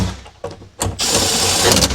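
Power drill on its lowest setting driving a bolt into a front window motor assembly on a 2002-2006 Jeep Liberty Limited, a short spin followed by a loud, steady whirring burst, close up.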